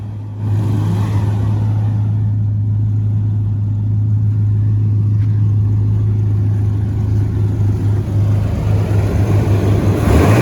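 A Chevrolet S10 pickup with a swapped 5.3 LS V8 engine idles loud and close, a deep, steady rumble that holds for the whole stretch and swells slightly near the end.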